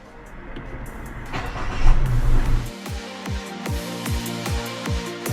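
Mazda CX-60 SUV on an out-of-country drive, its engine rising through a brief rev before settling into a steady low hum, with a regular series of thumping bumps from the road passing beneath, close and moderately loud.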